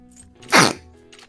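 A single short sneeze bursts out once, fairly close and loud, against a quiet background with faint game music.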